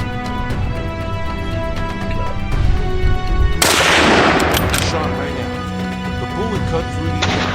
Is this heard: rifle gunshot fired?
yes